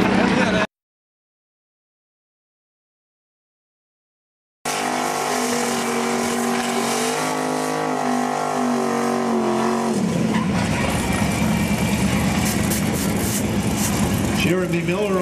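A 1974 Datsun 240Z race car with boost launches off the line in a wheelie, its engine roaring and revving hard after a brief dropout, rising then surging loud and rough, under an announcer's commentary.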